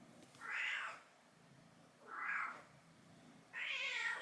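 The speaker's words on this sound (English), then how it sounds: "Why are cats like this?" A cat meows three times in an indoor room, each call drawn out and fairly close, separated by brief quiet pauses with no talking.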